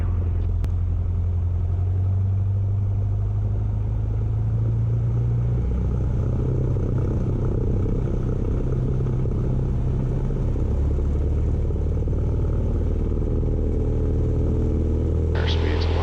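Cessna light aircraft engine droning steadily at high power on the takeoff roll from runway 29 at Chester County, a loud continuous cabin rumble with a low tone that shifts partway through.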